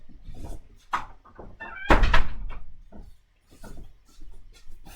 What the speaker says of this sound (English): I'm going to shut the door real quick.